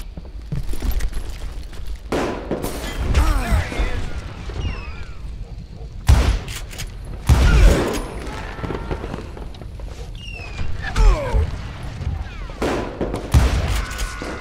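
Gunfire in the Western shooter Call of Juarez, with sharp shots and bursts recurring through the passage over game noise, and people talking at times.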